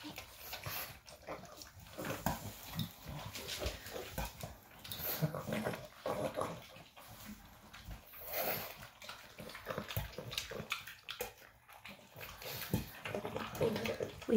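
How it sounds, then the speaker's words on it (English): A pug and a Boston terrier eat wet dog food mixed with peas and carrots, giving off steady close-up snuffling, grunting and wet chewing noises. The sound is continuous and busy, and no one speaks. "Well, he grunts when he eats."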